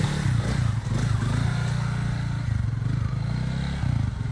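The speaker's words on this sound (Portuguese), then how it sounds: "Comprei essa moto." A new zero-kilometre motorcycle running steadily with a low, throbbing engine drone that dips briefly twice, close by and loud throughout, with no voices.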